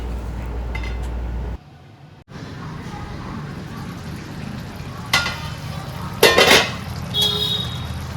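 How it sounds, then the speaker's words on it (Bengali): Chicken curry fries in a pan with a steady low sizzle, broken briefly by a lid lifted off, followed by a few clinks and scrapes of stirring near the end. "মাঝে মাঝে ঢাকা তুলে তুলে আমি একটু করে নাড়িয়ে নিচ্ছি যাতে তলাটা লেগে না যায়।"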